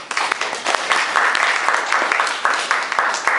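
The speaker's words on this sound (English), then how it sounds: "I think you all need to be applauded for that" Audience applause at a talk, a dense, steady roar of many hands clapping that fills the room at close range, with no voices over it.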